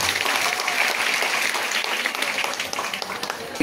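Loud audience applause fills a Marathi awards ceremony stage event, steady dense clapping throughout with a slight swell at the very end.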